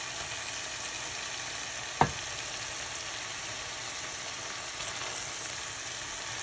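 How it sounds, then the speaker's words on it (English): Shrimp fry in a pan for a homemade pasta sauce. A steady, even sizzle fills the whole stretch, broken by a single soft clunk early on. "Now I'm going to be adding the shrimps."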